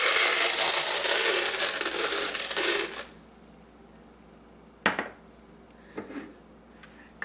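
Popcorn kernels, three-quarters of a cup, poured into an Orville Redenbacher oil-based popcorn popper: a dense, loud rattling cascade for about three seconds, then a few isolated clicks and clatters of stray kernels settling.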